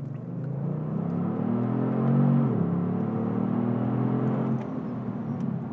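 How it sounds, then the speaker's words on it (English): A 2022 Kia Stinger GT accelerates hard, its engine note climbing in a steady, loud, close rumble and whir that rises in pitch, dips briefly at a gear change, then keeps pulling, with no talk over it. "the acceleration factor is awesome in this car"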